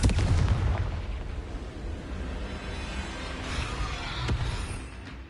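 A deep, rumbling blast from the Confringo spell in Hogwarts Legacy booms up loudly, then trails into a broad crackling roar with a second softer thump near the end.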